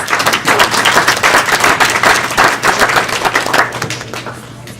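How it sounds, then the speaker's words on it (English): A dense, loud round of audience applause at a Kumon celebration, with many hands clapping rapidly and continuously, close and sustained throughout. "Can we give them a big round of applause, please?"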